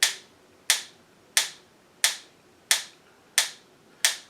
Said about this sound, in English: I'm going to use the metronome again, and this time instead of 60, I'm going to set it on 80.